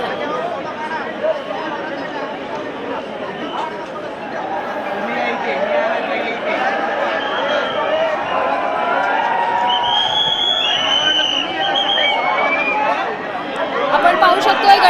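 Dense crowd of devotees gathered for the Chintamani Ganpati arrival procession in Mumbai, a steady wash of chatter and cheering voices that swells slightly toward the end, with some shouts rising above the babble.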